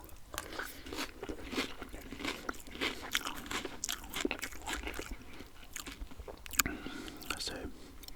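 Cheerios cereal crunched and chewed up close in ASMR style, with repeated crisp bites and mouth sounds running steadily under soft whispered talk throughout.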